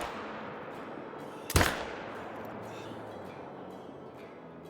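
A single loud rifle gunshot cracks out from a hunting rifle in the Call of the Wild hunting game, over a steady outdoor ambient background, then fades away.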